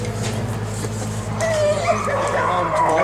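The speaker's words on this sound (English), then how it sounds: "Some of these are beautiful dogs." At an animal rescue, a dog whimpers and gives high yips, close and fairly loud, over a low engine hum. A person is talking at the same time.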